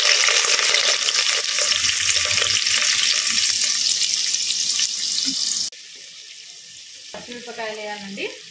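Onions sizzling and frying loudly in hot oil with whole spices for a chicken curry, a steady dense crackle that drops off abruptly partway through, followed by quieter clinks and stirring.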